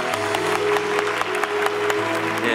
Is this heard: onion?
no